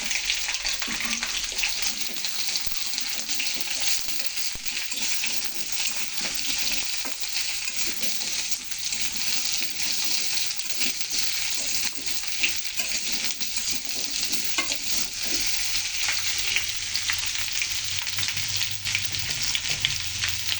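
Vegetables and radishes fry in oil with a steady, dense sizzle and crackle, with occasional stirring scrapes, close and continuous throughout.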